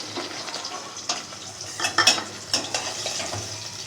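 Two medium onions frying in half a cup of oil for a beef and potato curry, with a steady sizzle and occasional sharp scrapes and clinks of a spoon stirring against the pot, close and fairly quiet.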